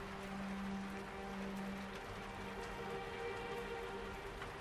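Steady rain patters on surfaces, soft and even throughout, with no voices over it.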